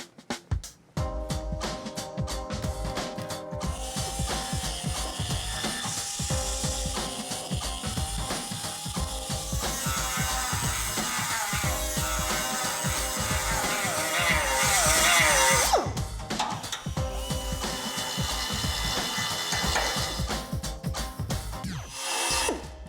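A power tool cuts out a welded washer on a Chevy Silverado truck's suspension, producing a loud, continuous grinding and rattling that runs close and unbroken for over twenty seconds without speech.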